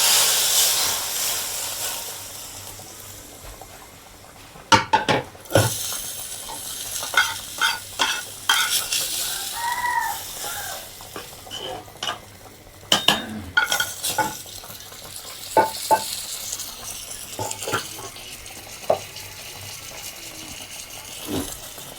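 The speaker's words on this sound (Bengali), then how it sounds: "আমি রসুন দিয়ে একটু বাগার দিয়ে দিলাম।" Fish and garlic sizzle in a hot pan, a steady frying hiss broken by repeated scraping clatters of a stirring utensil against the pan.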